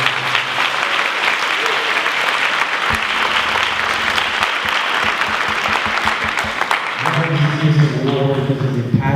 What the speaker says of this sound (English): Please give yourselves a round of applause for all of your achievements and hard work.